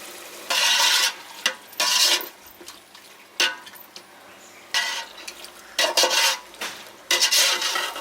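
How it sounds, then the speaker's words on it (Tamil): Chicken is stirred into a biryani pot with bursts of scraping and sizzling, several short strokes with pauses between, close up and with no talking. "இப்போ நம்ம ப்ரிப்பேர் பண்ணி வச்சிருக்க 1 kg சிக்கனை சேர்த்துக்கலாம்."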